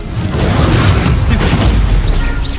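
A fiery Incendio spell blast erupts in Fortnite, a loud, dense roaring boom that fills the whole moment with heavy rumble and crackling spread.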